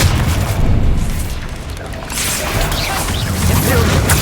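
A loud, booming Expelliarmus spell cast in Hogwarts Legacy, a dense crashing blast that dips briefly and then surges again, filling the whole clip.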